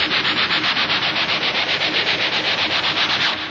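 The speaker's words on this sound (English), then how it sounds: "You can hear the phase shifting going on, as I'm doing that." An electric guitar played through a phaser gives a loud, sustained, noisy scraping tone in the style of Van Halen's Atomic Punk, its swoosh pulsing in a fast, regular rhythm throughout.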